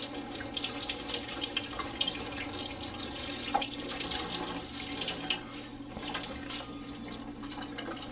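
Cold water runs steadily from a tap over a grill being cleaned, a soft continuous splashing stream with faint drips, fairly quiet and without talk.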